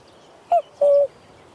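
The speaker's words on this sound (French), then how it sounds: "On entend le coucou qu'il fait." Cuckoo calling in the Baie de Somme: a single clear two-note call, a short higher note followed by a longer lower one, heard distinct against a quiet background.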